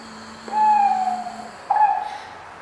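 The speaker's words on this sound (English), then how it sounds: "It was the owl that screeched" Two harsh, drawn-out owl screeches, each starting abruptly and fading, separated by a short pause against a quiet background.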